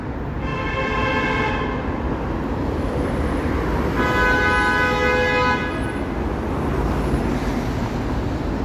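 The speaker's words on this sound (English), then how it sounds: "How many honks have we heard since I've been walking around down here?" Car horns honk repeatedly in two long blasts over a constant wash of loud Toronto street traffic on an evening, with no talking.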